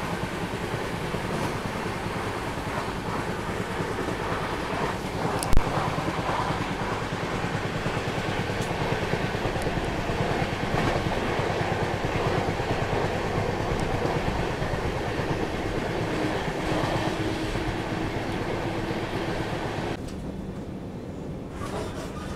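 Vaishali Express passenger train rolling through Kusmi forest near Gorakhpur, a steady loud rumble of wheels and carriages heard from onboard, with one sharp clank early on and a slight easing near the end.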